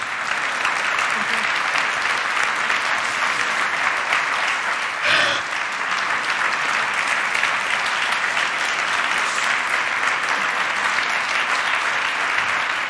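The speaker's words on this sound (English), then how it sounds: "Your applause." Conference audience applauding at the end of a talk, a dense, even wash of many hands clapping that holds steady and loud throughout, with a brief thump midway.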